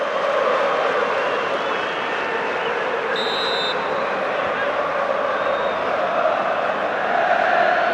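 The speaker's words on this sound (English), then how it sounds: "the crowd has never stopped making a lot of noise here tonight" A constant roar from a football stadium crowd during a 2005-06 UEFA Cup semi-final first leg between Steaua Bucharest and Middlesbrough, a dense, steady wash of massed voices with no let-up, heard at a distance.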